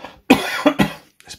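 A few sharp, close coughs come in a quick burst, with a brief pause before a softer final one.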